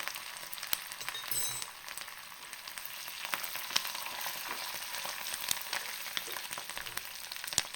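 Curry leaves fry in hot oil with a continuous, fairly faint crackling sizzle dotted with small pops, heard alone without talk.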